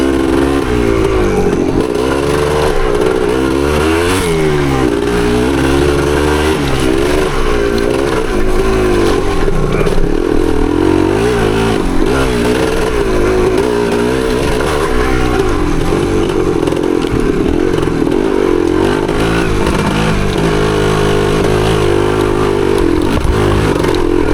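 A 1975 Yamaha DT250 two-stroke trail bike crawls along single track in second gear just above idle, its loud, steady burbling engine note rising and falling slightly throughout, close up with no voices.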